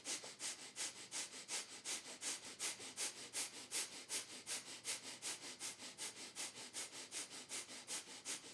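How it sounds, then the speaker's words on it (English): Breath of fire in a Kundalini yoga session: quick, even, rhythmic sniffing through the nose, about three or four pumps each second, close and clear for the whole stretch with no talking. "So fast breathing in and out through the nose"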